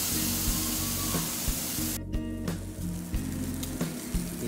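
A giant picanha skewer layered with pineapple, honey, onion, bacon and cream-cheese-stuffed chiles sizzles on a grill, a steady close hiss with a sharp burst of spitting midway and faint clinks, no talking.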